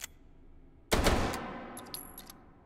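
A gun fires in the VR game Hot Dogs, Horseshoes & Hand Grenades: a sharp loud report followed by a decaying rumble, with small metallic clicks of handling afterward.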